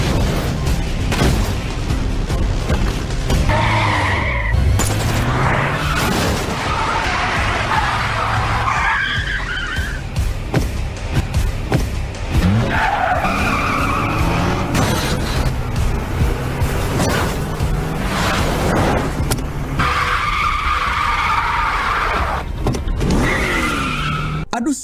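Cars skid and drift through an action-film chase, tires squealing over roaring engines with scattered booms. The sound is loud, dense and continuous, with repeated surges of screeching throughout.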